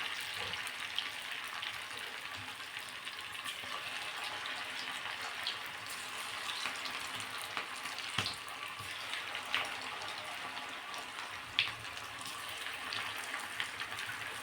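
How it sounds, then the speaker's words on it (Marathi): Potato fritter batter sizzles in hot oil for a fasting-day snack, a soft continuous hiss with scattered faint pops and crackles, steady and fairly quiet throughout, with no talking. "आता ही बाकीची सुद्धा जे मिश्रण राहिलेलं आहे अशाच पद्धतीने आपण तळून घेऊ."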